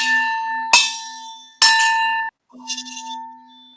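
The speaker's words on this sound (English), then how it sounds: "I do have one of my pot lids with me. I wonder if I could strike it on different parts." A metal pot lid is struck twice like a bell, each hit ringing out with a bright sustained tone, then a lighter, shorter tap on a different spot sounds softer and duller; close and clear with no talking.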